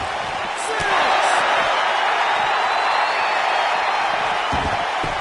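A wrestling video game crowd cheers as a steady, broadband roar that swells after the first second and then holds at a loud, even level, with voices talking over it.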